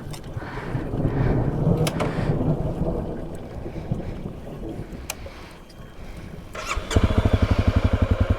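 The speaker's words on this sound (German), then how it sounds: "Gewitter ist jetzt wirklich einfach genau über uns" A thunderstorm rumbles overhead in North Macedonia's mountains during a CRF dirt-bike trip, with loud rolling thunder and rain over a wide roar, then a nearby motorcycle engine idles with steady pulsing in the final seconds.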